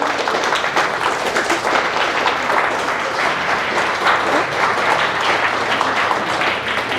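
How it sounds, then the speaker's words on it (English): A presentation audience claps in a steady, dense round of applause that runs evenly from start to finish, loud and close, with no voices on top. "Can we please give Autumn another big round of applause for her presentation?"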